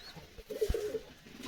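A domestic kamla pigeon in a loft gives a single soft, low coo, faint and close, with no voices around it.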